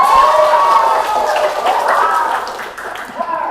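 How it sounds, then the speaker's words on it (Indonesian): A classroom of students claps together in a short burst of applause, loud at first and tapering off after a few seconds. "Tepuk tangan."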